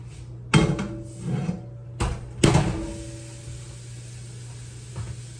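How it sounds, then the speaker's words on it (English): Sausage lifted from a hot skillet: a few sharp metallic clanks and knocks of utensil against pan, spaced across a quiet kitchen with a steady low hum beneath. "I'm gonna go ahead and take my sausage out of the skillet"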